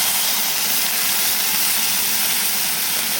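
Tomato, slit green chilli, boiled potato and chickpeas frying in a pan, a steady close hiss and sizzle without pause and with no talk.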